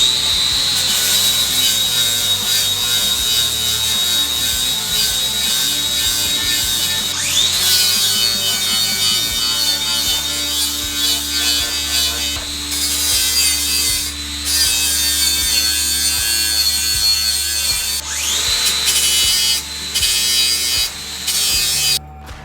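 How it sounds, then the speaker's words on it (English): A 60 grit flap disc on an angle grinder grinds lawn mower blades, a loud continuous whine with shifting pitch and rasping bursts as metal is worked, close up and alone. "first I think I'm going to start out with the flap disc, a 60 grit flap disc"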